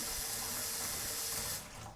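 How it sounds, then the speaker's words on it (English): Warm tap water runs continuously into a container, a steady broadband rushing hiss that tails off near the end; no talking. "we will continuously let warm water flow into this, to the side, so it will always be warm"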